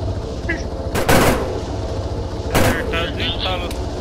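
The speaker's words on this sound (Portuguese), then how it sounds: "Eu vou dar um tiro no helicóptero, Sussu." Gunfire in ArmA 3 aimed at a helicopter: two sharp, loud bursts of shots about a second and a half apart, with chatter and mid-range noise between them and speech mixed in.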